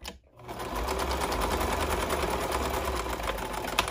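Sewing machine stitching a fabric planner pen pocket, a steady fast mechanical whir and needle clatter running continuously after a brief pause at the start, with no talk.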